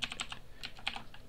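Rapid keystrokes on a computer keyboard while entering C# code, a crisp cluster of clicks and taps with a few short pauses, close and clear with no voices.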